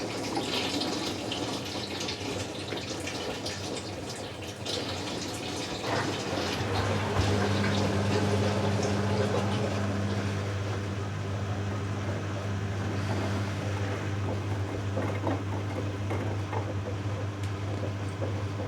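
A Bosch Logixx 8 washing machine rinse spinning during a Cottons 60 cycle with WaterPlus, giving a continuous rushing, swishing water-and-drum noise with a steady low motor hum joining partway through.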